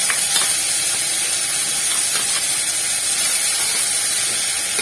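Ground spice paste dropped into a hot pan of oil for aloo dum, giving a steady loud sizzle and hiss that runs evenly from start to finish.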